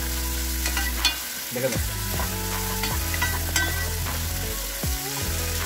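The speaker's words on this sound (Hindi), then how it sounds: "इस तरह से मैं इसको फ्राई कर ले रहा हूँ, अदरक लहसुन और चिकन इस तरह से आप फ्राई इस तरह से कर रहे हैं।" Ginger, garlic and chicken frying in a pan give a constant sizzle under loud background music, with occasional stirring scrapes and a brief spoken phrase.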